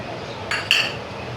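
A spoon gives two quick, light clinks against a bowl while sago and peanut powder are mixed together. The sound is close but faint, with no talking.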